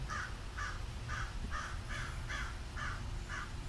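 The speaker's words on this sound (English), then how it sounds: "Birds like to be exhibitionists around me." Crows caw outdoors in a steady run of about eight harsh, evenly spaced calls over a constant low background rumble, with no one talking.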